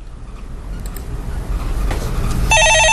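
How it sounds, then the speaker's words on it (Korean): A telephone bell rings loudly and rapidly during a Korean stock-market radio phone-in show, bursting in at the end over a rising broadband studio noise. "예, 전화 받아보겠습니다."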